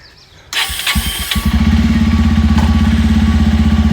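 A motorcycle starts up: a short cranking, then the engine catches and settles into a loud, close, steady idle that runs to the end, no talk.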